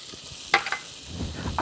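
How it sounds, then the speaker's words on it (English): Chorizo sausage sizzles in a pan over medium to high heat, a soft, steady frying hiss with a few quick stirring scrapes, close and fairly quiet. "So throw it in the pan, you get a nice medium to high heat pot going."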